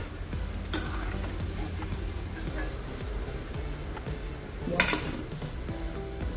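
Sweet rice-flour bor frying in hot oil, with a steady close sizzle and faint ticking pops and a brief louder stir or clatter near the end.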